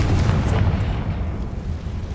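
The Confringo fire spell in Hogwarts Legacy bursts as a loud, dense, low rumbling blast that fills the whole moment and rolls on without a break, with no talking over it.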